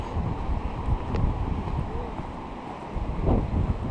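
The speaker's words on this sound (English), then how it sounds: "Getting windy." Outdoor wind at Orrs Creek, Low Gap Park, roars steadily across the microphone as a dense low rumble, swelling in a few stronger gusts over four seconds.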